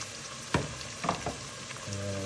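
Ginger and garlic fry in a pan with a steady close sizzle, broken by a few sharp clattering stir strokes against the metal and a low hum toward the end.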